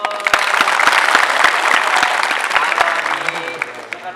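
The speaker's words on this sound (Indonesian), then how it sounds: "tepuk tangan dong." Loud applause from a crowd, dense rapid clapping that continues throughout and thins slightly toward the end.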